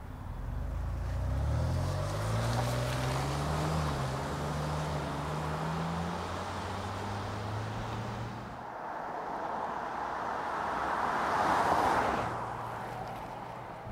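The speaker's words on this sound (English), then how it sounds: "that engine, just listen to it" 2019 Kia Sorento SXL AWD crossover engine while driving, a muffled low hum with a rising then falling tone as it accelerates and shifts, under road and wind noise inside the cabin.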